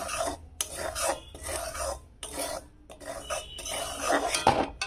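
A spoon scraping and stirring dud puli mixture of rice flour in a pan over low heat, rhythmic rasping strokes in repeated bursts with short pauses, close and fairly loud, no talking.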